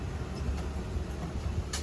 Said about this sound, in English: I apologize for the wind if it makes it a bit harder to hear me.